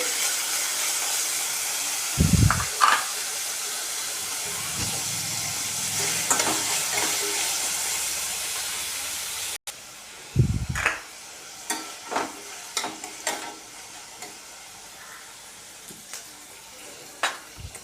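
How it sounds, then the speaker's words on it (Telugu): Chopped onions fry and sizzle steadily in a pan for a cabbage coconut curry, with a continuous hiss broken by a few louder scraping stirs and a brief cut partway through; no one speaks. "ఉల్లిపాయలు వేసేద్దాం ఇది బ్రౌన్ కలర్ వచ్చినంత వరకు వేయించుకోవాలి"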